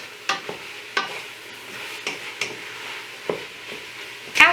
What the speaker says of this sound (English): I'm going to add in my garlic. Give this a really good stir.